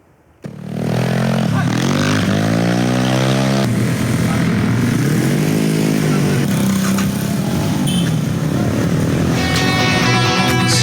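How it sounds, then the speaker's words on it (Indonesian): Several motorcycles at a police checkpoint in Durensawit, East Jakarta, turning around and riding off at night, engines roaring loudly with rising and falling revs as they pull away. "Sejumlah pengendara motor memutar balik dan kabur saat dihentikan polisi"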